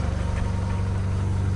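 A Volkswagen MK7 GTI engine idles steadily after running on E85 and developing a misfire, giving a continuous low, throbbing hum with a slight uneven pulse, close and fairly loud with no talking.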